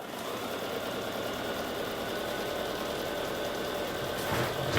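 A sewing machine stitches through a quilt-as-you-go snowman table topper in one continuous, quiet, even whirring run.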